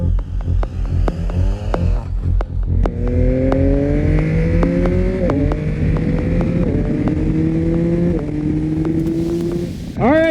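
A 2022 Yamaha XSR900 naked sport heritage motorcycle engine rides on a California road, loud and close, revving up through gears in rising sweeps with short dips at each shift, steady throughout.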